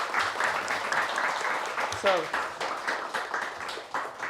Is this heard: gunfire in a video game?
no